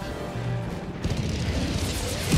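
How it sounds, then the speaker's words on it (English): A booming airstrike from Helldivers 2 lands on a swarm of bugs, a deep rumbling blast that rolls on and crackles for a couple of seconds. "Hold on, I'm gonna do an airstrike."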